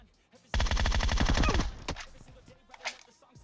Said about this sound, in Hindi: बहुत ही जल्दी गोलियां पेलता है